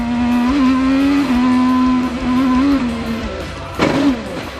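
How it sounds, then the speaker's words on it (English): An IndyCar race car screams at high revs, its engine pitch wavering, then a sudden harsh impact burst as it crashes hard off turn 12 on the Detroit street circuit, followed by the fading, dropping engine note. "Then this, a hard crash off of turn number 12."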